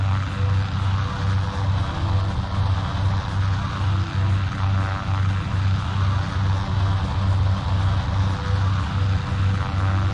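Enemy propeller airplanes approach in the Combat Wings aerial combat game, producing a continuous loud droning engine hum with a steady pulsing throb that lasts throughout and has no talk over it.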